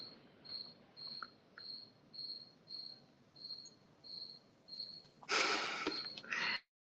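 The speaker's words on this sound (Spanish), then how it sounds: "Se escucha grillo, porra." Cricket chirping in steady, evenly spaced bursts, moderately close and alone, cut off near the end by a brief loud rustling burst.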